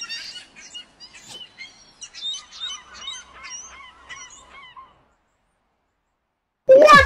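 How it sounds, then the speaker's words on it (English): A bird gives a run of honking, goose-like calls for several seconds, moderately loud and close, before a silence broken by an abrupt, louder burst at the end. "It's a bird."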